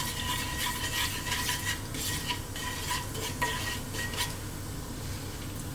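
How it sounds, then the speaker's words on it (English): Cumin seeds sizzling in hot coconut oil for a fish curry give a steady frying hiss, joined by the scraping of a utensil stirring around the pan and occasional metallic clinks, with no talking. "as that's heating, we're going to drop in our cumin seeds"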